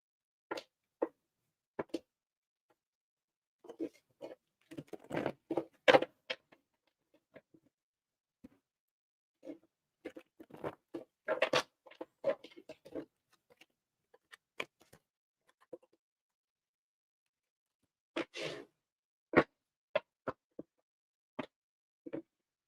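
Tarot cards being shuffled in a short reading session, heard as scattered bursts of crisp riffling and flicking patter, close and fairly quiet, separated by brief silences.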